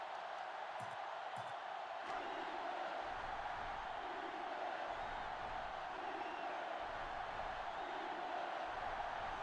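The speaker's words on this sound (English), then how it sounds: "The crowd is really letting him hear it." A stadium crowd in the football video game NCAA Football 2005 roars as a low, steady background din, with brief surges of cheering rising and falling beneath it.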